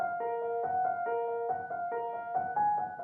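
A second piano loop in a beat repeats a short, soft melodic figure of sustained keyed notes in a steady pattern, quiet and alone.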